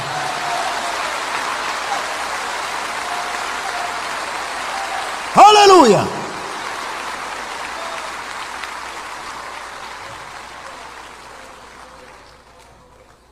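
A church congregation claps in praise, a diffuse, distant wash of applause that slowly fades away, broken midway by a single loud shouted voice.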